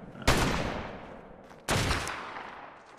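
Two heavy gun blasts from a turret in a video game, each a sudden loud crack trailing into a long fading rumble, roughly a second and a half apart.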